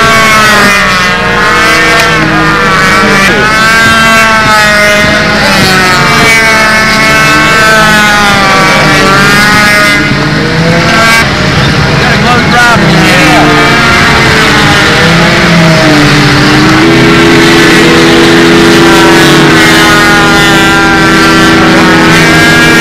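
Four-stroke control line model airplane engine running steadily and loud at a windy contest, its buzzing drone shifting in pitch as the plane circles, holding on throughout with no talk over it.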